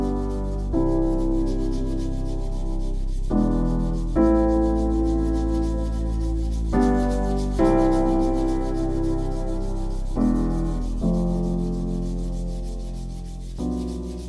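A scratched wheel rim is sanded by hand in long repeated strokes, the rubbing rising and falling in a steady rhythm close by, with no talking.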